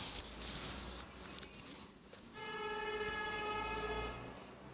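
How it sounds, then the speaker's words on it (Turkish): A sustained electronic horn from the video game Red Ball 3 blares for about two seconds, steady and loud, with a synthetic game-like tone over background noise. "Korna sesi."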